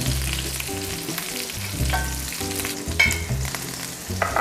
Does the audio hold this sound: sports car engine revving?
no